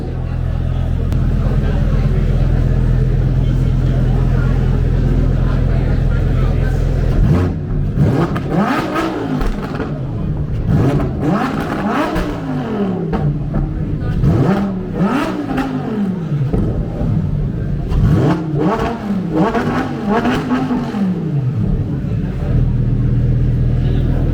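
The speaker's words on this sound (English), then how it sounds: "it's a request to Sanjay sir to please start the car once" A Lamborghini Huracan STO engine idles loudly nearby, then gets revved repeatedly in sharp rising and falling bursts, several throttle blips in a row, with a steady roar in between and people talking in the background.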